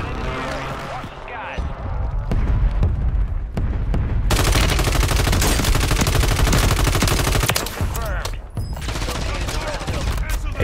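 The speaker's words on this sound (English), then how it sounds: "Hey, is someone shooting at you?" Rapid bursts of automatic gunfire in a Call of Duty Warzone Resurgence quads match, loud and close, running through most of the stretch alongside game effects, with a voice talking under the shots.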